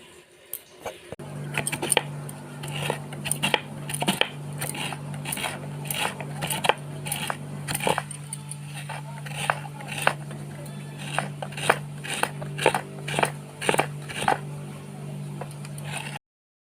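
Roasted coconut is grated by hand for pitha with close, crisp scraping strokes, repeated in quick irregular bursts over a steady low hum for more than a dozen seconds.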